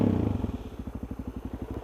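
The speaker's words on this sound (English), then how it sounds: "My bike just almost stalled." A motorcycle engine idling very low and nearly stalling, with a slow, uneven chugging pulse of lumpy beats heard up close.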